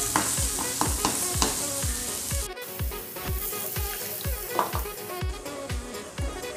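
Small puti fish frying in a pan with oil, stirred by a spatula, giving steady sizzling with repeated scraping strokes, loud and close, no voices.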